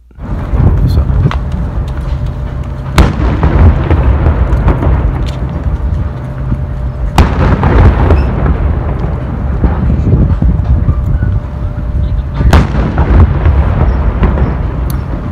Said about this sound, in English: the USS Constitution was coming into port and firing the guns